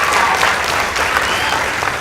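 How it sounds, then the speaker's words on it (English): A studio audience applauds a winning high school girls' debate team, a full, continuous round of clapping that stays dense and fairly loud throughout, with a faint voice underneath. "Kindly give them a round of applause as well."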